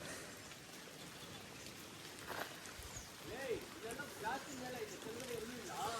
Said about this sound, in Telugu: ఇట్లా వాన్ జోరుగా పడతా ఉందిరా